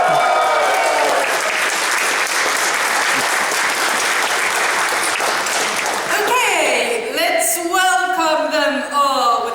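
A convention crowd at a Q&A panel gives loud, sustained applause to welcome the guests, then a voice starts speaking as the clapping dies down.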